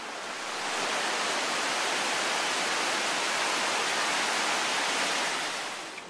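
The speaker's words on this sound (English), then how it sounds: "Maybe you can see how much the water's moving from all the rain that we've been getting." River swollen by heavy rain near Chengdu, Sichuan, rushing and roaring as a loud, dense, unbroken wash of water that fades in and out at the edges, with no talk.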